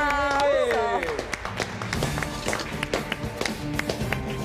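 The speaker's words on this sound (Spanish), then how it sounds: "Fuerte el aplauso." Studio audience applause bursts out at the end of a timed cooking competition round, a dense patter of clapping with scattered cheers under overlapping voices and a brief melodic musical sting at the start.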